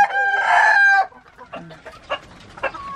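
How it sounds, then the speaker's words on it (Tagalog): A chicken lets out a loud, close crow, then clucks in short soft bursts while the flock eats, a few quiet calls spaced apart after the crow. "Sarap ng kain ng mga manok."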